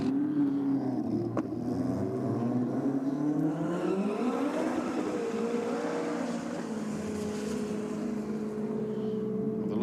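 A Datsun with an SR20 engine racing a Civic at a night roll race, its engine note rising loud and steady as it accelerates hard, with rising and falling tones as it shifts through gears.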